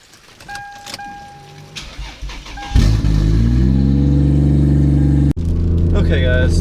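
A Lexus with a 2JZ-GTE engine cranks and fires into a loud, steady idle up close, then briefly cuts out and picks up again, with a voice talking over the start.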